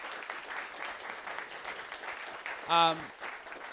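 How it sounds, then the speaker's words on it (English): Steady applause from an audience at a live university thesis-presentation final, clapping for the speakers, fairly soft and diffuse and running throughout, with a short voiced shout near the end. "give them a round of applause"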